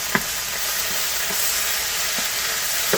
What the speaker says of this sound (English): There's the stir fry.